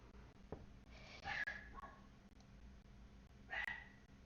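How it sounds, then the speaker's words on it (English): An indoor dog gives a few loud barks that sound muffled, two distinct bursts separated by a couple of seconds, over faint room noise. "My dog is very, very loud."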